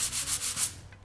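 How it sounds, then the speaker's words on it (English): Rhythmic back-and-forth scrubbing of 150 grit sandpaper on a sanding block, about five or six steady strokes, close and fairly loud, with no talking. "So I have 150 on here right now with a little bit of a sanding block."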